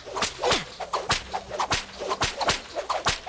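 Repeated whip cracks from Whip Whap's attack in the Skylanders Imaginators video game, about seven sharp snaps in a quick, slightly uneven rhythm, each with a brief swishing tail, loud and close with no talking.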